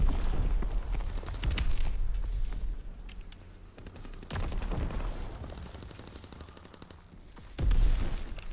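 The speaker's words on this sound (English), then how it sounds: "Firing primary battery." Primary battery guns firing in a video game, heavy booming shots repeating at uneven intervals with rumbling tails between them, one especially strong blast near the end.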